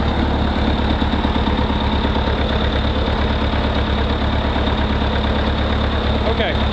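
An old tractor's engine idles steadily close to the microphone, a loud continuous low chugging with a fast, even rhythm that runs for the full length without pause.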